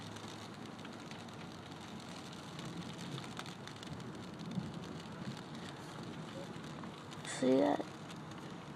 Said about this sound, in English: Little droplets will soon turn into pounding.